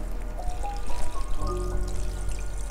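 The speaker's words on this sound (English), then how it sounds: "so we're gonna pour water" Water pours steadily from a bucket into a hotpot pot, a close, continuous splashing stream that rises slightly in pitch as it fills, with no talking.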